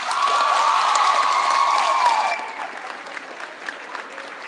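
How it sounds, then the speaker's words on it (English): Applause at a middle school awards celebration for eighth grade boys basketball: a crowd claps and cheers loudly with a whistle-like shout on top, then the clapping thins to a quieter patter. "One round of applause for your 8th grade boys basketball."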